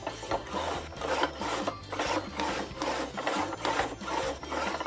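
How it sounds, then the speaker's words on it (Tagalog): A sliding cutter rasps in repeated rhythmic strokes through printed wristband stickers, standard 10 by 1 inch strips, close and steady with no talk. "ikakat ko na tong mga wristband sticker natin"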